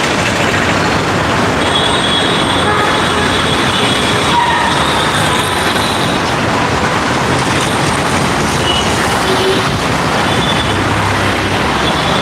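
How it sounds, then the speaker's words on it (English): Metro train at Parade Ground Metro Station in Hyderabad, a loud continuous rumble of wheels on rails with faint squealing tones, steady throughout and mixed with surrounding traffic noise. "I've reached Parade Ground Metro Station."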